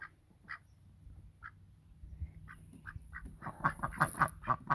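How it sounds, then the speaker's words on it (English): Ducks quack in a loose series of short calls, sparse and fairly near at first, then coming faster and louder toward the end. "Hello, ducks. There's my ducks."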